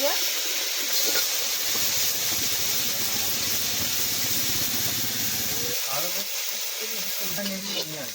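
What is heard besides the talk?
prawns frying in hot oil in a wok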